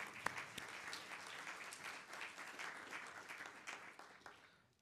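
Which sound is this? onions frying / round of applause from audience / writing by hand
round of applause from audience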